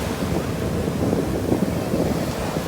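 Sea waves wash ashore at Suvali beach near Surat during a beach festival, a continuous rushing surf mixed with heavy wind buffeting the microphone, with no voices.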